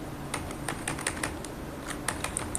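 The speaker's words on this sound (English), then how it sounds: "I'm just going to type here" Typing on a computer keyboard, a quick irregular run of close key clicks over a steady low background hum, with no one talking.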